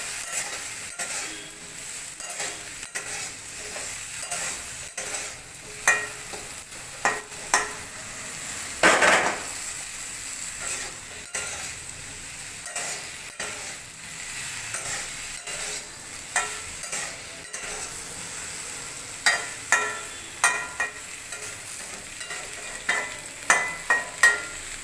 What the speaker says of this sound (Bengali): নুন হলুদ দিয়ে ভালো করে নেড়ে চেড়ে চাপা দিয়ে ভালো করে ভেজে নিব ভেন্ডিটা।